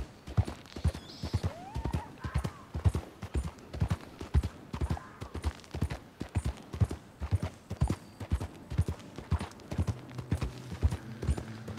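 Horse hooves clip-clop steadily along a path in Red Dead Redemption 2, a regular close rhythm of sharp knocks with a brief whinny-like call near the start and no talking.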